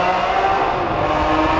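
Lamborghini Aventador engine roaring steadily and loudly at high revs during aggressive downshifting, a dense continuous drone with slight fluctuations and no voices.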